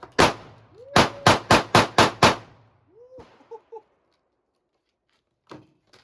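A .357 SIG Smith & Wesson Shield pistol fired outdoors in a rapid string of about seven loud, sharp shots, then a pause and a few fainter, scattered pops.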